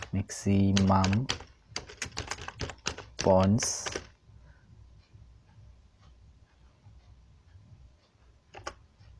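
Keys clatter on a computer keyboard while someone enters database report fields. A voice talks over the first few seconds, then faint, scattered clicks continue alone.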